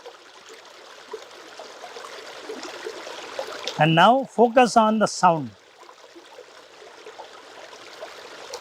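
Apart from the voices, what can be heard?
water stream flowing over rocks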